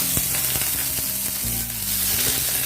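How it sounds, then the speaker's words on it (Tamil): Onion, cumin, dried chillies and curry leaves sizzling hard in hot oil for a Tamil carrot poriyal, a loud, close, steady frying hiss with a low hum underneath and no speech. "நல்லா எண்ணெயிலே வதக்கி விட்டுறலாம்"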